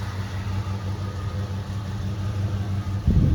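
A 1967 Oldsmobile Delta 88 Holiday Coupe with a 425 V8 rumbles steadily at a low, even idle during a night drive, close and continuous, swelling briefly into a louder burst right at the end.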